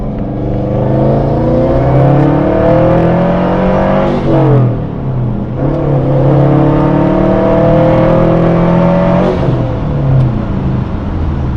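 Lifted Subaru WRX accelerating hard through second gear, then a brief shift and a run through third, two rising engine sweeps with a dip between, loud and close inside the car, no talking.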